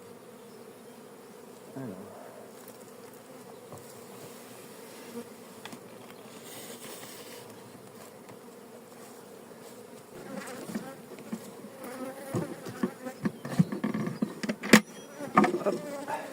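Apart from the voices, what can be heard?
honey bees buzzing around a beehive during hive change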